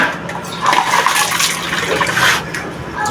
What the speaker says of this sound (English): let me just pour this water away